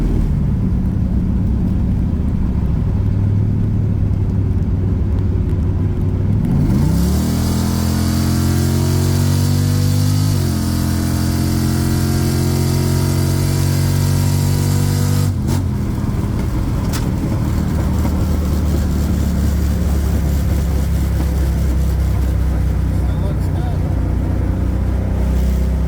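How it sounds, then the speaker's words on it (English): A 5.3 V8 car engine drones loudly on the highway, rising in pitch as it accelerates through gears with audible shifts, then settling into a steady cruise with heavy road and wind noise. "cruising down the highway"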